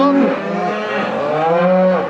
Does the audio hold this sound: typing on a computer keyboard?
no